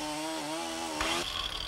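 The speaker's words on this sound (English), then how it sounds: "The Husqvarna Model 51 Chainsaw." A Husqvarna Model 51 chainsaw runs at a steady, loud high-revving drone, then its pitch shifts abruptly as it bites into a cut, close and alone.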